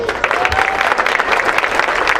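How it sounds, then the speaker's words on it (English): An audience claps for a charity event's coordinator, producing a dense, even burst of applause from a crowd that stays loud and steady throughout. "Brittany Mitchell, who we should give a round of applause."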